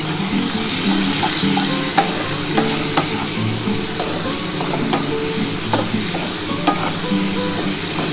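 Onion and tomato frying with chilli powder, Kashmiri chilli, a little sugar and spices for ghugni, a loud continuous sizzle with regular scraping and clinking of a spoon stirring the pan, no talking.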